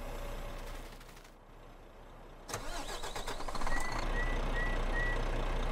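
A Kamaz 65228 semi truck in a video game mod cranks and starts from a dead stop, a sharp starter burst giving way to a steady close engine rumble, with faint high beeps toward the end.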